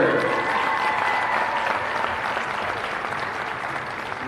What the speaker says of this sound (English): One more huge round of applause for our senior basketball players, manager, and families.